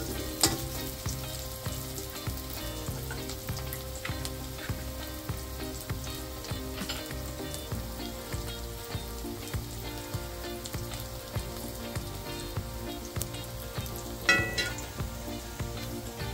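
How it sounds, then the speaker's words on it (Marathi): Chopped onion frying in oil until brown for a red amaranth stir-fry, a dense, continuous sizzle and crackle that holds steady throughout with a few brief louder pops, no voices. "कांदा ब्राऊन होईपर्यंत हे भाजायचं आहे"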